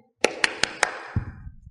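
Four sharp hand claps ring out at a steady pace at a market entrance, followed by a softer low shuffle and background noise.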